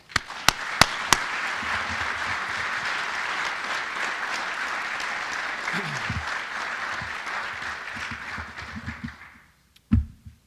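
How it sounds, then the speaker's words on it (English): An athletic hall of fame awards crowd applauds inductee Sal Longo, a few sharp claps leading into sustained dense applause that tapers to silence, followed by a brief voice. "So round of applause for Sal Longo."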